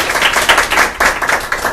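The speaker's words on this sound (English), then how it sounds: "Give Wade a big round of applause." An audience applauds a speaker at a live event, a close, loud burst of many hands clapping in quick, uneven waves that swell and dip.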